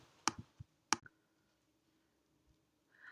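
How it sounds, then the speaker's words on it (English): Computer mouse clicks on an upload button: two sharp, close clicks in quick succession near the start, with a few softer taps and faint handling noise afterward in a quiet room. "Let's upload the playlist by clicking the Upload button."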